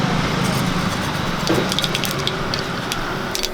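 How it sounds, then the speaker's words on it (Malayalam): Mustard seeds spluttering in hot coconut oil while tempering for a Kerala-style mackerel curry: a steady sizzle scattered with small sharp pops and crackles, continuous and close throughout. "കുറച്ച് വെളിച്ചെണ്ണ ഒഴിച്ചു കൊടുക്കാം നമുക്ക് കുറച്ച് കടുക് ഇട്ട് കൊടുക്കാം"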